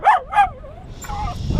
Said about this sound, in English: Listen to those dogs.